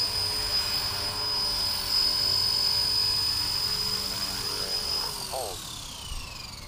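A Blade Fusion 180 RC helicopter flies in a yard with a loud, steady high-pitched motor whine and rotor buzz close by. Near the end the pitch shifts, and voices are heard under the sound.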